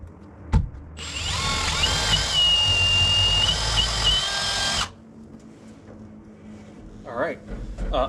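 A power drill bores a hole up through tongue and groove porch ceiling boards. A loud, high whine runs for about four seconds, followed by quieter handling noises and a few faint squeaks.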